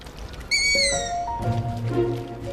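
Owls in a city park in Vienna calling in the open, a few clear hooting and whistled notes overlapping one another at close range, with no voices.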